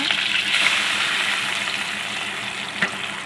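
Water poured into a pot while making spicy home-style rasam, a steady close rushing splash that holds for a few seconds with a small clink near the end.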